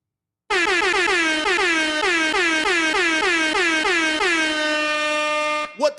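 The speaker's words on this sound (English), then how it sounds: "Let me get some more air horns in here." A rapid series of loud air horn blasts repeating in a steady rhythm, then a final drawn-out blare that cuts off abruptly.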